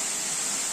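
Large waterfall in the upper Uch-Kosh gorge, a steady hiss of rushing water, continuous and even, with no other sounds.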